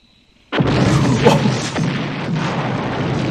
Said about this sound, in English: Excellent explosion.